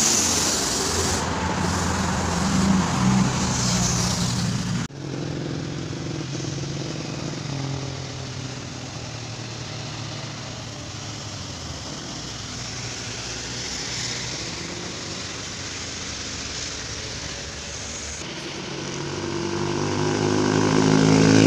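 A Budiman intercity bus labors up the steep, sharply winding Gentong incline on the road toward Bandung, its engine droning steadily at mid distance, with a sudden cut in the sound early on and the engine swelling louder again near the end.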